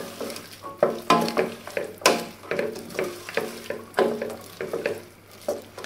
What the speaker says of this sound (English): stir that around for a minute